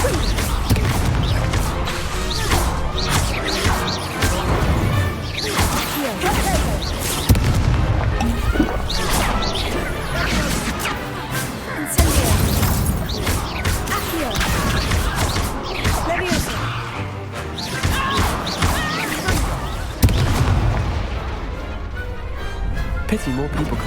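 Wizard duel in the Hogwarts Legacy video game, with repeated spell blasts, crashes and thuds coming in bursts across the whole stretch, loud and busy, with a voice calling out over the action.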